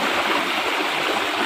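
Water from a village tubewell in a shaded orchard gushes out in a loud, steady, close rush of broadband noise with no pauses.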